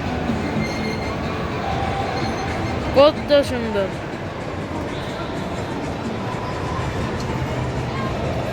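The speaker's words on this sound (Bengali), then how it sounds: "সামনে সামনে দিয়ে ট্রেন আসছে গাইস, ট্রেন, কত সুন্দর ট্রেন।" A train runs past a shopping mall with a continuous rumbling clatter and a brief wheel squeal partway through, while a person talks over it nearby.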